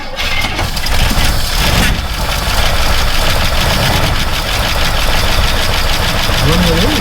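An old survivor car engine idles roughly just after a cold start, a steady, loud, uneven churning with faint knocking that holds throughout, with background voices mixed in.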